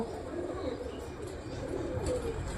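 Pet pigeons kept in a home loft coo softly in a low, continuous murmur, faint and brief against a quiet background on a cold day.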